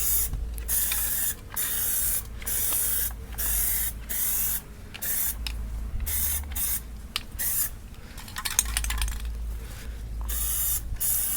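Plasti Dip aerosol hisses onto car interior trim in about a dozen short, sharp bursts of varying length, separated by brief pauses and close to the can.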